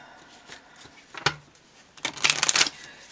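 Tarot cards riffle and snap in short bursts, a brief flutter early on, then a longer, louder run of crisp shuffling close by.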